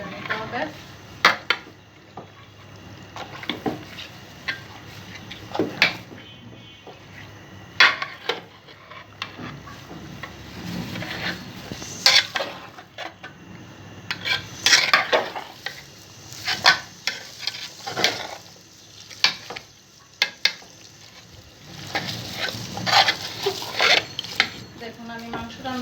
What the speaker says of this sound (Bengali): এভাবে ভালো করে মশলাটা মাংসের সাথে মিক্স করে নিতে হবে।